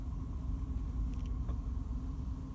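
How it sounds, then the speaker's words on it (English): A car's exhaust, compared to a V8, rumbles low and steady at idle with a constant deep drone and no voices. "But to hear that exhaust, it sounds brilliant. It sounds like a V8 almost."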